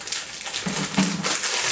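A plastic snack bag crinkles and rustles up close as it is torn open during a quick eating challenge, a steady dense crackle with a couple of sharper crunches.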